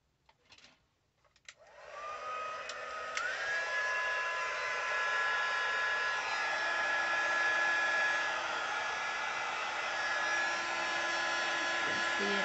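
Heat tool blowing hot air to melt embossing powder on a card, starting with a few handling clicks and then settling into a steady, loud whirring hum with a faint whine that runs to the end.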